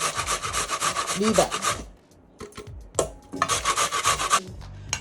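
A carrot being grated by hand on a kitchen grater, with steady rapid rasping strokes in two close, loud bursts separated by a short pause. A brief spoken phrase falls in the gap.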